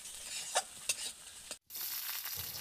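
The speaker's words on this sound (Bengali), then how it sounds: "ডিমগুলোকে আমি ভুজিয়ার মতো ভেজে তুলে নেব।" Eggs scrambled in a wok over medium heat into a bhujia-style fry, a soft, steady sizzle with a few spatula scrapes and taps and a brief break, quiet and close with no talk.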